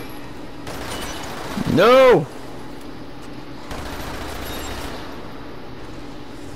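A sustained burst of full-auto gunfire in a video game, loud and dense for a couple of seconds with a booming, ringing tail, set against quieter game ambience and a short shout from a player.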